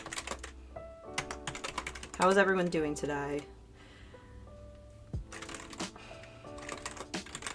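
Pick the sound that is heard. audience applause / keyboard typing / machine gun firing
keyboard typing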